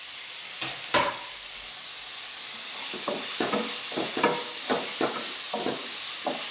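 Masala frying in a pan with chopped tomatoes added, a constant sizzle broken by repeated scraping stirs at an even rhythm, close and fairly loud.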